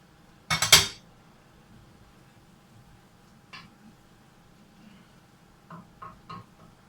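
Metal utensil clinks and scrapes against a cooking pot while spaghetti bolognese sauce is stirred, one loud clattering burst followed by a few faint, brief taps in an otherwise quiet kitchen.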